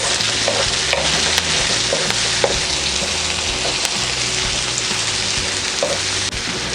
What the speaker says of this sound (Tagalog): isusunod po natin dito ang ating sibuyas. Tapos hihintayin lang din po natin na maluto yung ating sibuyas.